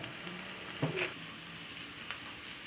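Garlic frying in a pan while being cooked until golden for a Thai rice-porridge breakfast, a steady soft sizzle throughout with a few brief stirring clinks near the start, close and moderately quiet, no talking.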